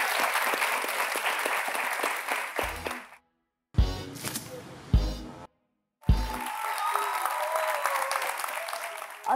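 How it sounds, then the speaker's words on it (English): A game show audience applauds the players, with a sustained burst of clapping, then two brief pauses broken by short claps, before steady applause resumes and continues to the end. "let's give them a wonderful round of applause for playing today"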